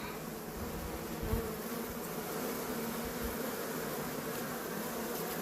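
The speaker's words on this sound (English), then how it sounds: "these girls up here, they're doing what's called fanning. Fanning the hives." Honeybees fanning at a hive entrance give a dense, continuous buzzing hum up close, steady and without pause, with a faint thump near the start.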